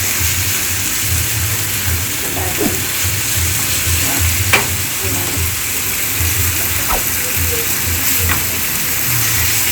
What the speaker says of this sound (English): So as our chicken is frying